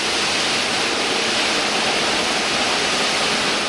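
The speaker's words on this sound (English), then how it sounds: "These propel microscopic-sized water droplets into the fire area, where they absorb energy by cooling air and fire gases" A high-fog fire suppression system in a confined space sprays fine water mist with a loud, steady, broadband hiss that does not vary throughout.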